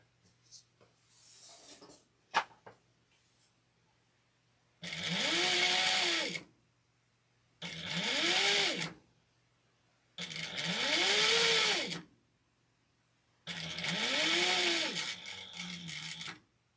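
A sewing machine stitches an apron in four separate whirring runs of a second or two each, close and clear, with quiet pauses and a few small clicks between them.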